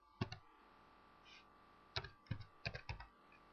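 Computer keyboard keys tapped in short bursts while a username and password are entered, close and quiet: one click, a pause, then a quick cluster of several keystrokes.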